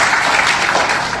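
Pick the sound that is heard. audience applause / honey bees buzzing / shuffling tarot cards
audience applause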